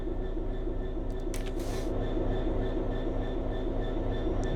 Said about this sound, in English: I can hear the train